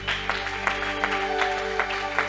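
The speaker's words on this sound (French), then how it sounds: "j'ai envie qu'on acclame le nom de Jésus" A church congregation applauding to acclaim the name of Jesus, steady rhythmic clapping over a sustained organ-like musical drone.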